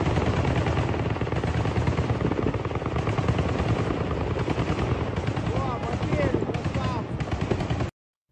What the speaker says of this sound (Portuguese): mostra o momento da interceptação de um drone sobre Odessa